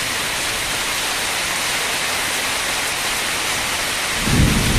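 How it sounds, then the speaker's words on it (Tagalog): Heavy rain pouring steadily at a house construction site where work on the beam runners has stopped, with a low rumble of thunder rising near the end, loud and continuous with no talk. "Lakas ng ulan eh."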